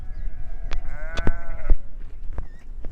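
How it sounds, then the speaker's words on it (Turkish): A sheep gives one wavering, nasal bleat lasting about a second, with sharp knocks and rustling around it and faint calls in the background. "Koyunlar bak o da ona destek veriyor."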